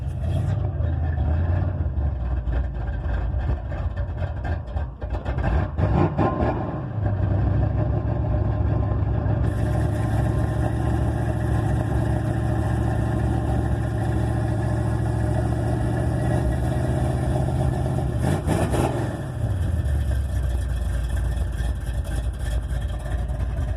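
A 1986 Monte Carlo SS with a 383 V8 idles after a cold start on a 25-degree morning, a loud, steady, deep exhaust rumble that dips briefly around a couple of points but holds throughout, with no talking.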